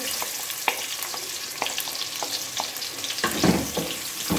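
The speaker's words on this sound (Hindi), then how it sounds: "हमने कुकिंग ऑयल डाला है और कुकिंग ऑयल हमारा गर्म हो गया है। अब हम इसमें प्याज डालेंगे" Chopped onions go into hot cooking oil for a gobi chicken curry, setting off a loud, steady sizzle and crackle with occasional stirring scrapes, close up and with no talking.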